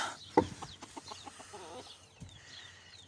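Chickens clucking nearby in short, scattered calls, with one sharper squawk early on and softer bird chatter in a quiet poultry yard.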